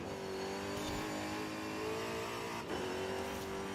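A car engine in the Forza Horizon racing game drones loudly and steadily, the throttle feathered so the pitch rises and dips slightly with no speech, over continuous road and exhaust noise.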